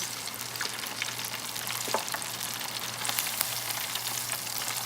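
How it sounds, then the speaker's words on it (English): A keto chalupa shell frying in a fryer gives a steady, close crackling sizzle, with scattered sharper pops over a low constant hum. "I decided to just add it to the fryer and just bend it in half"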